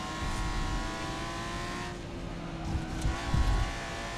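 Race cars circle a track in Forza Motorsport with the tires still cold on the first lap, a steady engine drone that swells slightly near the end.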